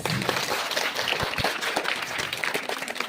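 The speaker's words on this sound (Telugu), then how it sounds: "మా పేరెంట్స్ కి ఒక క్లాప్స్" An audience at a parents-teachers meeting in a school hall clapping for the parents, a brief burst of many hands applauding at close range, fairly loud and uneven, with faint voices mixed in.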